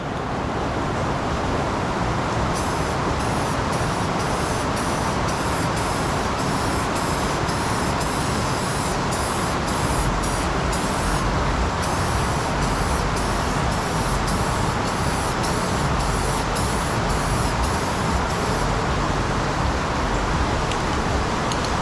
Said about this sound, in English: And we start laying paint.